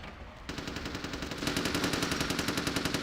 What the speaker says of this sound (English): Yay, more gunfire.